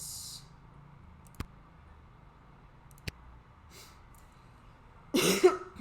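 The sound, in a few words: coughing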